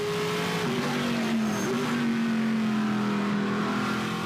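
A Trans Am Series race car, Shane Lewis's number 72, howls around the Mid-Ohio circuit, its loud engine droning steadily with shifting pitch through gear changes, under constant crowd and track noise.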